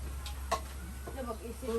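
Soft clucking from a native Bisaya chicken nearby, a few short low calls over a steady background hum, with faint voices mixed in.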